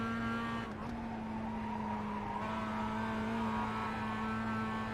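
Mazda MX5 race car at Summit Point Raceway gearing down into third for a sharp right turn, its steady engine tone shifting pitch partway through, with faint tyre noise underneath.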